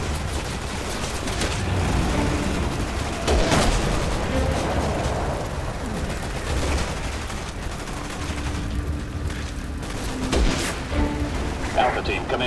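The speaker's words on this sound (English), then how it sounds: "We're taking fire at the Two of Hearts." Enemy soldiers in Resident Evil 6 fire heavy, sustained gunfire in a loud battle, with bursts and booming blasts layered over rumbling effects as voices speak over the combat.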